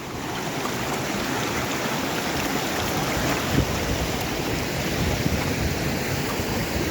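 A shallow, rocky mountain stream where fish swim rushes and gurgles steadily at close range, a dense, continuous wash of water with no voices over it.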